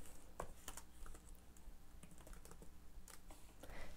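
Quick, irregular keystrokes on a computer keyboard, faint and close, typing a page name into a link field with no talking over it.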